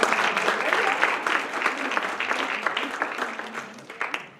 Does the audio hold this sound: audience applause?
yes